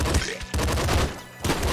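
Homing-bullet weapon firing in the video game Nuclear Throne: rapid bursts of gunfire in quick succession, loud and close, with brief gaps between volleys.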